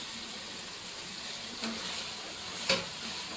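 Capsicum frying in ghee in a home kitchen pan, a steady low sizzle running throughout with a couple of brief clinks or stirring knocks, close and fairly quiet, no talking.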